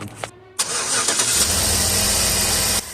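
A 2012 Chevy Tahoe engine cranks briefly and catches, then settles into a steady, close idle rumble that holds for a couple of seconds before cutting off.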